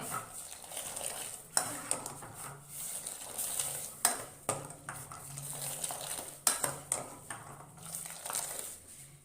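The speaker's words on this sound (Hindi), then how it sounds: "इस स्टेज पे आके हम इसे सिर्फ 1 से 2 मिनट पकाएंगे और अच्छी तरह हिलाएंगे।" A spoon stirs Kashmiri pink tea simmering in a pot, scraping and clinking against the metal in irregular strokes with several sharper knocks, fairly quiet and close.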